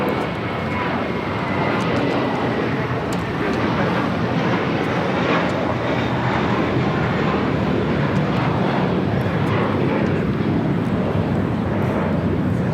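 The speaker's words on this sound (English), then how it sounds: "This is American Airlines 2201 taking off to JFK on an A321." An American Airlines A321 jet taking off gives a steady, broad roar that stays constant and fairly distant throughout, with no clear voices on top.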